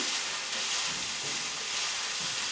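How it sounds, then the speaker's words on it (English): Frozen corn fries in a pan on a woodstove, giving a soft, even sizzling hiss that stays steady and fairly quiet throughout, with no voices. "I'm going to dump it in my pan. And I'm just going to get that cooking."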